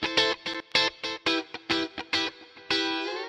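Guitar played in short choppy strummed chords, each hit bright and distorted with effects, ending on a longer ringing chord with a reverb and delay tail, in a pop production.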